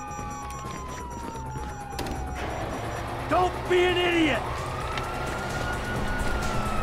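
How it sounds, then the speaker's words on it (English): Police sirens wail in Grand Theft Auto 5, a rising and falling electronic tone that sweeps through the game's street noise while someone shouts over it. "you hear that? Sirens!"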